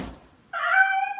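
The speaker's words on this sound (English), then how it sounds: "Did you wrap a cat?" A cat wrapped up as a Christmas present lets out a single clear, drawn-out meow after a soft thump, close and fairly loud.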